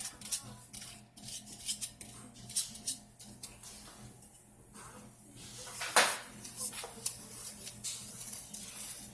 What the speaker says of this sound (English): you just want to slightly beat your egg and then just mix everything in